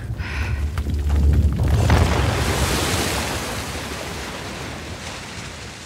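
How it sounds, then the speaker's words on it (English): Water rushing in, a loud surging gush in Uncharted: The Lost Legacy, rising to a broad roar within two seconds and then holding steady as a sustained rushing wash that slowly eases. "Let there be water."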